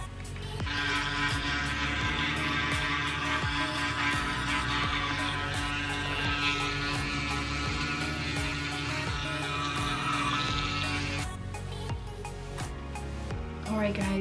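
An Oral-B iO electric toothbrush brushing teeth gives a close, steady buzzing hum with a faint regular pulse, running continuously before cutting off near the end.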